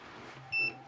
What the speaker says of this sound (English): So this should beep every time I get an electrical connection.